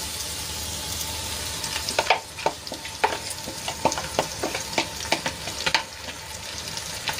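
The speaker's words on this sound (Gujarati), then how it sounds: "તો પેસ્ટને સરસ રીતે ડુંગળીમાં મિક્સ કરી લઈશું" Masala and yogurt paste being stirred into frying onions with salt for a Gujarati vegetable dish: a spoon scrapes the pan in repeated, uneven strokes over a steady, soft sizzle.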